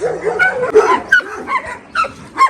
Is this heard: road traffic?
no